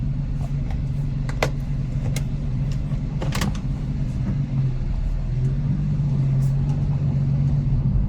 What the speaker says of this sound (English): Let the car warm up a little bit.